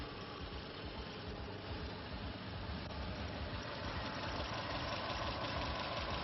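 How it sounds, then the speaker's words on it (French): A car fitted with a rotary piston engine idles at low speed, a steady faint hum with an even, unbroken drone and no talk over it. "Ici, le moteur rotatif."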